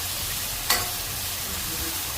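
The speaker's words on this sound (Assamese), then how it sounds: "মাছ ভজা তেলতে পিঁয়াজ দি পেলাই এইখিনি বহাই দিলোঁ।" Sliced onions sizzle in oil left over from frying fish for a potato fish curry, a steady close hiss with one brief sharper crackle early on.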